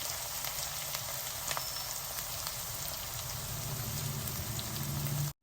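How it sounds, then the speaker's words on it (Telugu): Sliced onions frying steadily in a pan for a spinach and gongura curry, a dense, even sizzle up close with faint occasional crackles, no talking, ending abruptly. "మన ఉల్లిపాయలు మంచిగా వేగుతున్నాయి"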